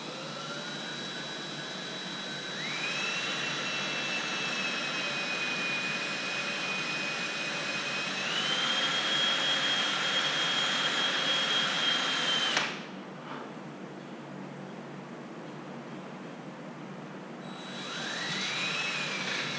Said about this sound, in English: I can drill straight through and keep these holes directly across from each other